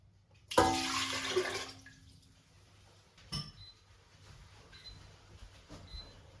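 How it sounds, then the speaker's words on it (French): Water pours briefly and noisily into a bowl for sourdough bread dough, a close gush lasting about a second, followed by faint clinks and handling sounds in a quiet kitchen. "D'abord, je mets l'eau."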